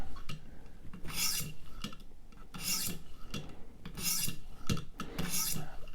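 A Hinderer Firetac knife blade is drawn across a knife sharpener in four rhythmic rasping strokes, each a bright scraping swipe separated by brief pauses with softer handling noises, close up and alone.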